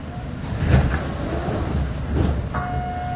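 Franklin Avenue shuttle subway train running through a tunnel, with a steady close rumble and rattle of cars on the rails, swelling in places, and a thin squeal of wheels near the end.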